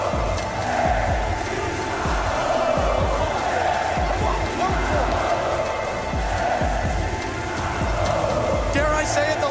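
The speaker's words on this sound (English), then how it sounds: "Dare I say it, the loudest the crowd's been all weekend?" A large esports arena crowd at a Six Invitational match in São Paulo roars and cheers loudly and continuously, a dense wall of voices with rhythmic thumping underneath throughout.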